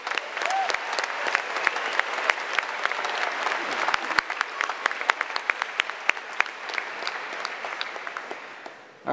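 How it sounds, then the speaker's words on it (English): Sustained audience applause at a high school graduation ceremony, a dense wash of many hands clapping from start to finish at steady, fairly loud level, fading slightly toward the end. "How about another round of applause for Mr."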